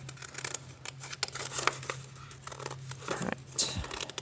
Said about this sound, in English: you can tell if cutting with scissors is somewhat of a challenge